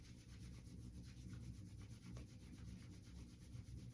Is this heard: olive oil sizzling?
no